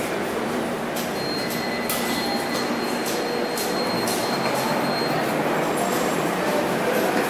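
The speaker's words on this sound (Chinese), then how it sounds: "这是那地铁" A metro train running through a subway station in Bulgaria, with a steady loud rumble of wheels on rail, recurring squeals and screeches, and station echo throughout.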